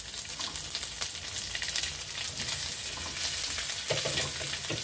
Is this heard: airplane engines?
no